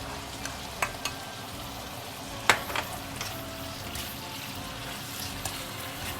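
Pork and sweet banana peppers sizzle steadily in a hot pan as spring onions are tossed in, with a constant frying hiss broken by occasional sharp clinks of a spatula against the pan.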